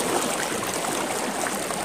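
Strong river current rushes and churns in a steady, dense wash of water noise, close and continuous with no talking.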